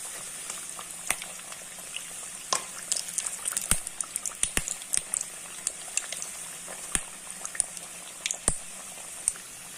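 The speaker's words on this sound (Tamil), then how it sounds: "பாருங்க, இந்த கொதிக்கிற சவுண்ட் எல்லாம் நின்றுடுச்சுன்னா நம்ம இந்த வடையை எடுத்துடலாம்." Tapioca (cassava) vada frying in hot oil in a home kitchen, a quiet steady bubbling and sizzle with scattered sharp pops and crackles.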